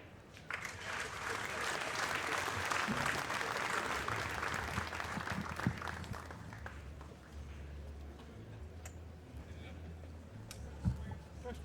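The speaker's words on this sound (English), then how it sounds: "This will give the fans something to clap at." Fans applaud at the Predator World 10-Ball Championship final in a pool arena, a burst of clapping that swells, then thins out, leaving a low hum and a few scattered claps.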